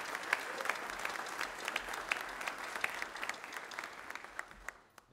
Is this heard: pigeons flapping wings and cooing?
no